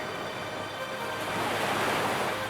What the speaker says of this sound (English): it dances in gentle waves, hugging the shore